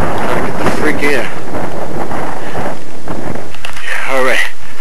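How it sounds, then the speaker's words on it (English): Strong wind in a Chicago blizzard roars and buffets straight into the microphone outdoors, a loud continuous rushing with gusts, while a person talks underneath. "It's really windy out here."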